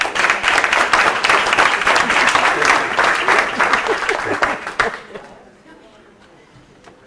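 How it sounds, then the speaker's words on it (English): Audience applause at a talk, a dense, loud burst of clapping from a crowd that holds steady for about five seconds, then cuts off abruptly and leaves only faint room noise. "Let's give Linda a round of applause."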